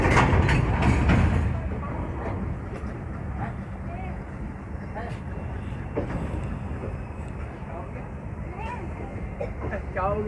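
An LHB-coach express train on the Ayodhya Cantt to Delhi run, heard from on board as a continuous loud rolling rumble with rhythmic rail clatter, a louder burst at the start, then a steady run, and no talk.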